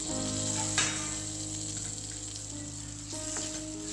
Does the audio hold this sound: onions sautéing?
yes